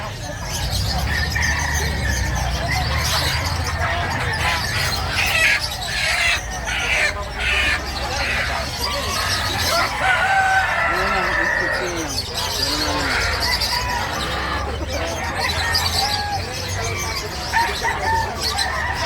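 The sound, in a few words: chickens clucking and rooster crowing at market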